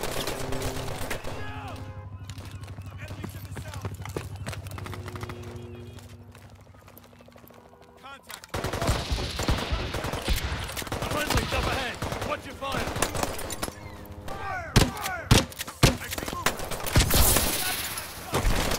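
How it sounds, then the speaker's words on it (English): Gunfire in Call of Duty Advanced Warfare erupts in dense bursts of rapid shots over game noise, loud and close, after a quieter stretch with a voice speaking briefly. "Who's shooting me?"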